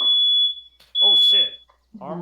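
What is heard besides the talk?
fire alarm going off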